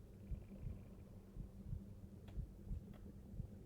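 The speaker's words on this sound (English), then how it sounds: "Do you guys hear something beating? Is that a conduit? Sounds like a heartbeat." A heartbeat in a video game's underwater scene, heard as a faint, steady low thumping pulse that repeats through the whole stretch over a soft ambient hum.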